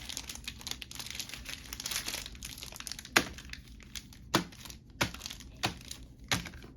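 A mega box of 2022-23 Donruss Optic trading cards being torn open: continuous crinkling of wrapping and packs, then a run of sharp, close snaps and rips spaced about a second apart.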